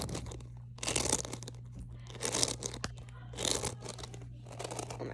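Squishy toys having the air squeezed out of them, soft crinkly crunching bursts that come in several close, fairly quiet pulses, with no talking.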